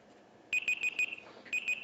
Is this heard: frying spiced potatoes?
no